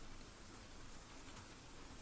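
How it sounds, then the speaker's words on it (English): Rain falling, a faint steady hiss of drops on a surface with no other sounds. "It started to rain."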